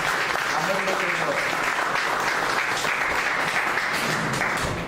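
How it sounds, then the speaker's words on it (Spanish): A church congregation at a Spanish-language Easter service bursts into sustained, dense applause offered to God, a loud continuous wash of clapping with voices and cheers mixed in. "Dele una ofrenda fuerte de palmas a nuestro Señor."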